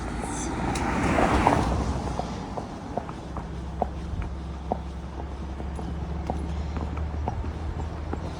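A horse named Hazel walking on a main road, its hooves making a steady, evenly spaced clip-clop on tarmac. A passing car's rumble swells early on and stays low beneath the hoofbeats.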